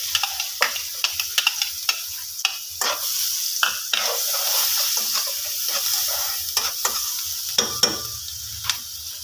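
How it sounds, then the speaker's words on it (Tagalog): Garlic and onion sautéed in a pan for pork liver steak, a continuous close sizzle broken by frequent sharp clicks of a utensil stirring and scraping, with no talking. "magigisa lang tayo sa ating bawang at sibuyas"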